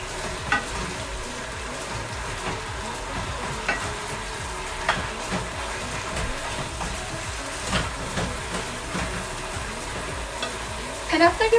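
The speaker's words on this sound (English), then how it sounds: "you just want to stir it" Beef and broccoli being stirred in a frying pan, with a steady close sizzle and scattered scrapes and clinks of the utensil against the pan throughout.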